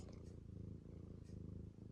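A male cat purrs close up, a low and steady rumbling purr that carries on without a break.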